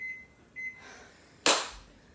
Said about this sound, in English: So I'm going to set the timer.